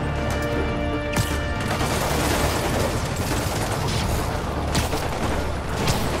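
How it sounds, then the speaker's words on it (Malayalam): Sustained rattling machine-gun fire from a helicopter in Spider-Man Remastered on PS5, a dense continuous barrage of shots and booms filling the clip with no talk. "അയ്യോ ഹെലികോപ്റ്റർ അവിടുന്ന് വെടിയേക്കണ്."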